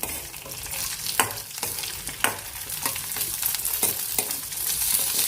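Onions and red chillies sizzle and crackle in hot oil with a steady hiss, punctuated by occasional sharp pops and scraping stirs, close up, without speech.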